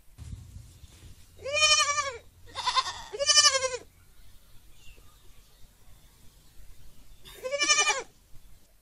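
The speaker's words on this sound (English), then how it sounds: "G for goat." A goat bleats four times, each cry a drawn-out wavering call. Three come close together, then a pause before the last one, heard clearly against a quiet background.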